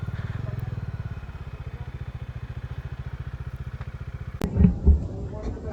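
A motorcycle idling near a church parking area in Laurel, Batangas, with a steady close putter that slows and fades before the engine cuts and a few clunks follow as it is parked.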